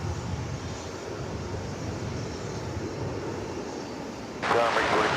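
An airplane at DFW Airport sends out a steady, broad engine roar that holds throughout, then grows suddenly louder and brighter near the end as the aircraft passes closer.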